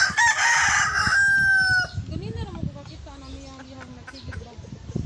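A rooster crows loudly and close at the start, then hens cluck and murmur among big rocks, with people talking faintly in the background.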